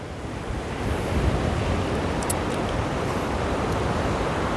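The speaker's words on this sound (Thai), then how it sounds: "มีน้ำ น้ำทะเลนะครับ นี่น้ำทะเลนะครับ เป็นทะเลนะครับ" Sea waves washing onto a rocky, algae-covered shore on a clear day, a steady broadband roar of surf with wind noise, continuous and fairly close, with no voices.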